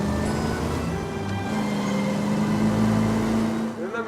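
A car drives in the video game LA Noire, its engine giving a steady, loud hum and drone that holds nearly constant throughout, with a slight shift in pitch near the end.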